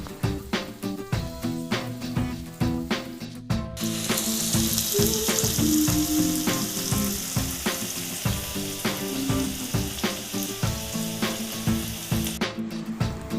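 Vegetables and boiled chowmein stir-frying in a pan for veg chowmein, a loud continuous sizzle broken by a steady rhythm of sharp scraping and tossing strokes, close up and without speech.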